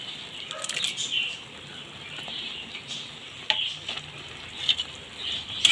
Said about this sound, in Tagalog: Tapos haluin lang natin.